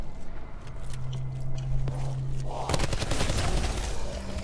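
Light machine gun firing in Black Ops 4 Zombies, Blood of the Dead map: after a low steady hum, a dense burst of rapid gunfire breaks in at mid-clip and carries on loudly to the end.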